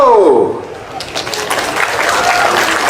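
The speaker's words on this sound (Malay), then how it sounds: "Satu tepukan gemuruh untuk beliau." Applause from a crowd at a political rally in Permatang, a dense, steady clatter of clapping that builds after a brief opening and holds through the clip.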